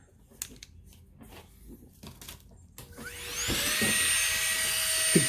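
A dental lab drill with a long burr spins up after a few soft clicks and handling noises, then holds a high, steady whine as it cuts into a denture.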